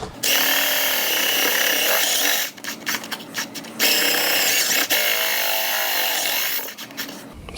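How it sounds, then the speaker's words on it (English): A step drill bores a one-inch hole in the airframe of a 1/6th scale twin-turbine F-18 Hornet model jet, whining loudly and steadily, with brief pauses and bursts as the bit bites deeper. "so we just use our step drill to get to the 1-inch point"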